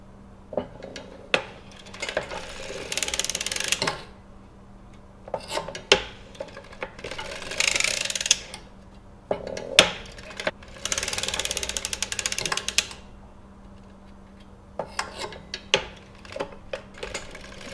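An Erlbacher circular sock knitting machine runs in repeated bursts, its needles and carrier producing a busy metallic ratcheting clatter with short clicks and pauses between rounds, close and fairly quiet.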